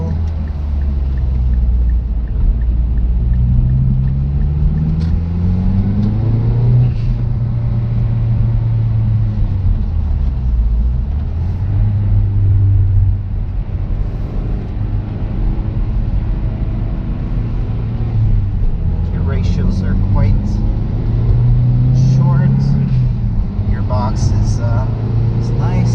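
An engine-swapped Mazdaspeed3 drives along, its low engine drone and road rumble rising and falling steadily through gear changes from inside the cabin while a person talks throughout.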